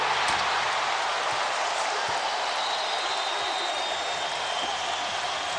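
A basketball arena crowd cheering and applauding during an NBA game: a dense, steady roar of many voices and clapping that fills the whole stretch, loud and continuous.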